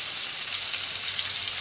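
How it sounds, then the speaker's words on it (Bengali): Chopped onion hits hot oil in a pan, producing a loud, dense, unbroken hiss of sizzling across the whole short moment. "পেঁয়াজ কুচি ছেড়ে দিচ্ছি আমি একটা পরিমাণ।"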